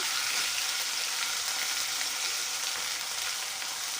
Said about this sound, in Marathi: हे अद्रक लसणाची पेस्ट गरम तेलामध्ये छान असे परतून घेऊया